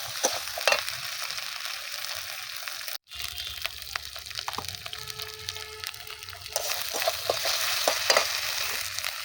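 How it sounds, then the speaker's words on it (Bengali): Onion, chili and turmeric spice paste fries in oil in a pan with a steady close sizzle, broken by a brief dropout and intermittent scraping stirs that grow busier toward the end. "এই যে বন্ধুরা দেখুন মশলাটা ভালো করে কষিয়ে নিয়েছি। এই যে দেখুন তেল ছেড়ে দিয়েছে মশলা থেকে।"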